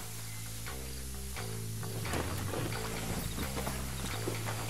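Horse hooves gallop in steady clip-clop rhythm across dusty ground in the Western video game Red Dead Redemption, continuous and fairly close under a low rumbling game soundscape, with no talking.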